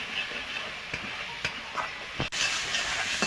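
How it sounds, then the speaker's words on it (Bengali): Fish curry masala is stirred and mixed in a pan, with a soft continuous sizzle broken by a few scraping strokes of the spoon. "এটা নাড়াচাড়া করে মিশিয়ে নেব।"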